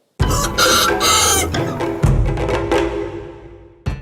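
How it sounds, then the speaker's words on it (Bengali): Dong Tao dragon chickens, the thick-legged Vietnamese breed, cluck and call close by in a steady, loud run of bursts, with a sharp crow-like cry near the middle and a fresh squawk at the end. "অদ্ভুত দেখতে এই মুরগির নাম ডংটাও বা ড্রাগন চিকেন"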